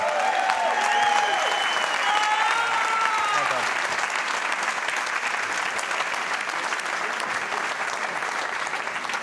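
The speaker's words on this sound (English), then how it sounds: "Big round of applause for Alexander Kazakis." Sustained audience applause fills a pool tournament arena after the 2019 World Pool Masters final, loud and dense throughout, with some whistles and cheers near the start.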